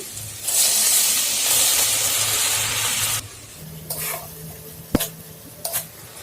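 Masala with Kashmiri chili powder sizzles loudly in a hot pan while being stirred, a dense hiss for about three seconds, then quieter frying with sharp scrapes and clinks of the spoon against the pan.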